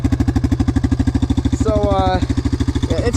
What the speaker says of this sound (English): this exhaust sounds raspy. It's because the baffle's rusted outside of it, and it's actually broken in half too